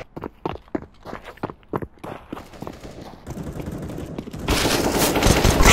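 Rapid gunfire from the video game CS:GO: sharp separate shots and short bursts early on, then dense overlapping fire that grows louder and more continuous toward the end.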